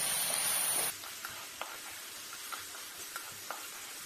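Egg omelette curry stirred in a pan: a loud hiss opens the clip, then a quieter steady sizzle with a few soft spoon taps spaced out, no voices.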